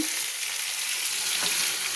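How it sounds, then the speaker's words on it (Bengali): Carrots and beans fry in a pan with a steady, close, hissing sizzle that carries on without a break for the whole two seconds. "তার সাথে গাজর নিয়েছি আর বিনস নিয়েছি তো এগুলো আমি এখন একটু ভাজা ভাজা করব"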